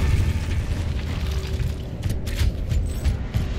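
Frag grenade blast in the video game Gears of War, a deep booming explosion with rumbling debris and a few sharp bursts, loud and close with no talking.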